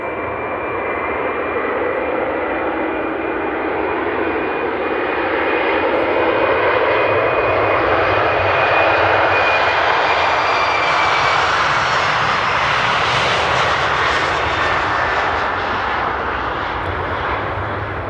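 A jet airliner takes off from Amsterdam Airport, its loud engine roar building steadily and swelling to a peak before easing slightly, one continuous powerful rumble with no voices.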